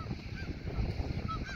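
Geese honk in the distance over a farm pond, a few faint, scattered calls above a low rumbling background.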